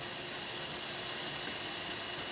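Steady, even steam hiss pours from a Breville Barista Express espresso machine as its thermal block heats up, a constant close whoosh with no breaks.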